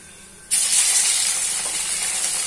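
Chili powder and salt tempering dropped into hot oil bursts into a loud, steady sizzle and hiss that starts abruptly and continues without a break, close to the pan.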